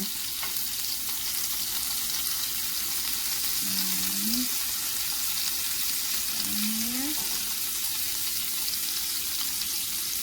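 Beef rouladen rolls fry in a pan with a steady, fairly quiet sizzle, broken twice by short rising scrapes as the rolls are turned.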